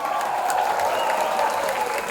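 Audience applause at a direct-selling company talk in Kerala, a steady dense wash of clapping that holds at an even level for about two seconds with no voices over it.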